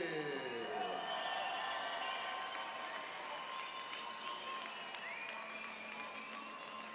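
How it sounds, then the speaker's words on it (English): Crowd at a kickboxing event applauding and cheering as a fighter is introduced, a steady wash of distant clapping and crowd noise with tonal music or horn lines running over it throughout. "Juri Kehl with a nice round of applause here"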